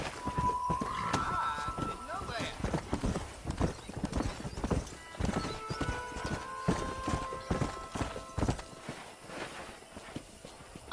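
Horse hooves clip-clopping at a steady galloping rhythm through Red Dead Redemption, with a neigh near the start, close and loud under game music and occasional talk.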